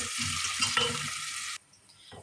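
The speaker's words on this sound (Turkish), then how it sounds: "Biraz da yarım çay bardağı da sıvı yağ koyup soğanımı biraz kavuruyorum." Steady, dense sizzle of onions frying in hot oil, with a few stirring scrapes, then the sizzle drops away abruptly near the end.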